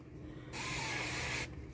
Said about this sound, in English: I want to spray it a little bit.